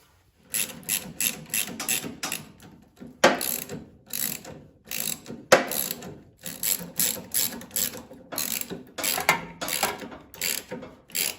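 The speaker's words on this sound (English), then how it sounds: "I'm going to hold those with a wrench while I socket these down." A ratchet socket wrench tightens nuts on a snow blower's rubber impeller flaps, producing close, rapid clicking bursts in repeated strokes with short pauses between them and no talking.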